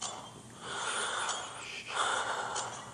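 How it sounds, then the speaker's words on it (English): Heavy, rasping breaths of an animatronic in a horror video game, a steady raspy exhale swelling and fading over a few seconds, close and fairly loud with no talk over it. "if you don't stop doing your heavy breathing, bro. He's freaking in here."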